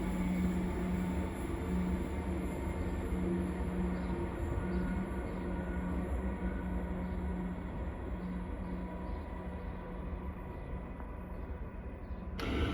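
A Siemens suburban train pulls into platform 1 at St Albans station in Melbourne, a steady rumbling roar of wheels and motors with faint squeals, ending in a sharp clunk.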